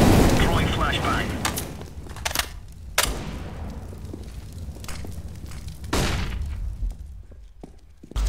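A flashbang grenade detonates in Counter-Strike: Global Offensive, with sharp, loud cracks among other in-game bangs and clatter while a player talks.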